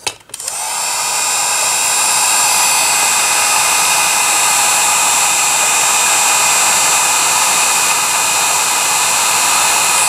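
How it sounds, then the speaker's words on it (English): A heat gun blows hot air while being used on an Airline farm radio model 04WG-468 repair: a steady, loud, continuous whoosh-like roar that starts abruptly and holds evenly throughout, with no talking. "we're going to just take the heat gun and give this thing a shot and make sure it's nice and secure"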